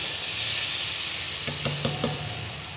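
Mixed vegetables sizzle steadily in a hot pan for a savory sabudana breakfast dish, a continuous bright frying hiss with a few short scraping clicks of a spoon near the end.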